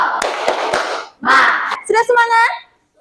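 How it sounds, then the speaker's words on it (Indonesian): A classroom of schoolchildren performs the rhythmic 'tepuk semangat' clap: three crisp, evenly spaced hand claps ring out up close, followed by children's chanting voices. "Ayo, tuh, tepuk semangat."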